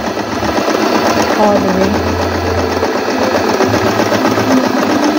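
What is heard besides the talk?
Stitchmaster tabletop sewing machine sewing a straight stitch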